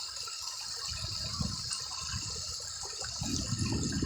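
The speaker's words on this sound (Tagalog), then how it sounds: "Yan yung kabuuan guys ang ilog ng Quirino Extension, Nara, Palawan" River water flows at Quirino Extension in Narra, Palawan, a faint steady rush with low gurgling swells underneath, heard from nearby with no talking.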